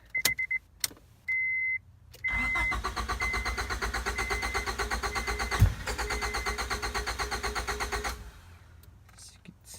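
A Honda Accord cranks on a borrowed Mustang battery after a few short electrical beeps, the starter churning in a fast rhythmic whirr for several seconds before stopping.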